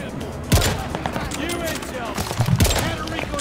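Rapid gunfire in a first-person shooter video game, bursts of rifle shots and explosions layered densely throughout, with players talking over the action.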